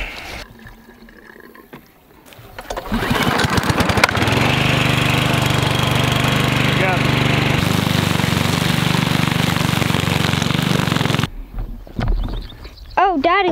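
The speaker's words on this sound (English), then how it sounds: "Oh, Daddy, look at the mower." A lawn mower's engine runs steadily for about seven seconds while grass is being cut, loud and close, after a quieter stretch with talk, then it cuts out and voices speak near the end.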